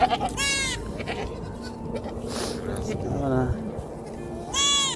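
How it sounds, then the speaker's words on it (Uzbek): A goat bleats loudly nearby, then again after a pause, with a person speaking in between over outdoor background noise. "oldimda bitta echki, qo'limda bitta uloq"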